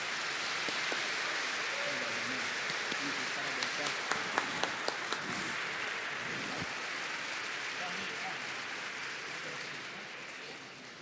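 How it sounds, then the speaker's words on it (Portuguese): A large audience at a formal award ceremony gives a long, even round of applause, a soft continuous patter of many hands heard from a distance, with a few sharper claps standing out midway. "Uma salva de palmas."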